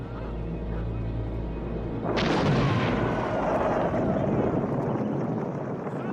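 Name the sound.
explosion in a film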